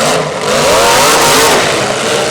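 A demolition derby car at the 2022 Van Wert County Fair revs hard and loud on the gas, a sustained roaring engine note that swells and holds over crowd and arena noise.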